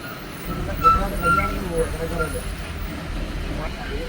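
Riding inside a bus on a road past fields and canals, the engine makes a low, steady rumble and there is faint road noise, with a brief hiss partway through.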